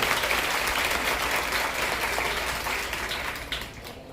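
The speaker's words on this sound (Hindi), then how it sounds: "जोरदार तालियों से अभिनंदन करिए" Audience at a local public function in Tarana, India, gives steady, dense applause, a sustained wash of clapping that fades slightly toward the end.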